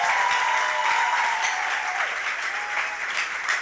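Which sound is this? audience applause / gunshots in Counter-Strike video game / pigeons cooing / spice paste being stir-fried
audience applause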